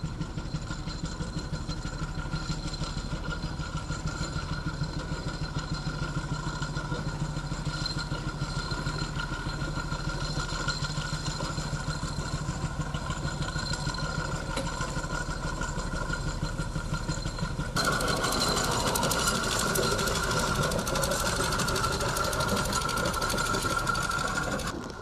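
A traction engine runs steadily throughout, a continuous mechanical chugging hum, growing louder and brighter for the last several seconds as it comes closer or opens up; no talk.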